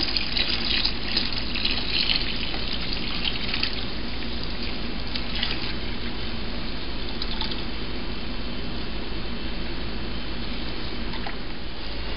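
Gallons of water pour steadily into a corn mash for moonshine, a close, continuous splashing gush that runs unbroken and evenly loud for about twelve seconds.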